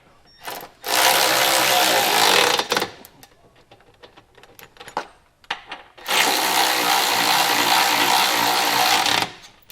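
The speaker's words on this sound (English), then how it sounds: "we're going to go ahead and tighten these down" Impact or ratchet tool tightening Curt trailer hitch bolts on a 2021 Dodge Durango, two long loud buzzing mechanical whirrs of about two and three and a half seconds, separated by quieter clicks and rattles, close by.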